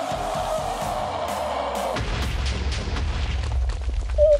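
A creeper explodes in a Minecraft-style space survival game, a booming blast around the two-second mark that cuts off a sustained tone and leaves a rumbling tail, with a short high blip near the end.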